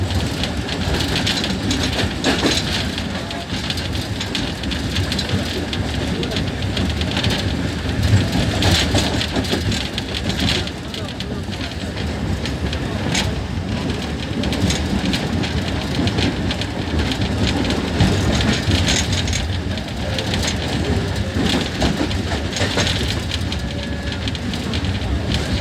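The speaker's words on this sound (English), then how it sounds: "our train is driving at the speed of 45." A train running along a rail line near high-voltage power lines at about 45, a continuous broad rushing rumble with steady rattling, heard from on board or close by for the whole stretch.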